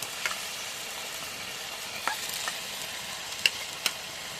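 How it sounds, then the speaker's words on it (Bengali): A paste of ground ginger, garlic and garam masala hisses steadily in a hot pan as mutton curry is cooked in a village kitchen, a soft even sizzle broken by a few faint clicks and scrapes. "এখন এই যে আদা রসুন গরম মশলা সব কিছু বাটা দিই"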